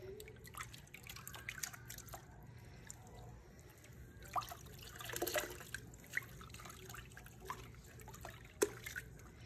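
Hair extension dipped and rinsed in sink water, giving soft irregular drips and trickles with small splashes, fairly quiet and close, with no talking.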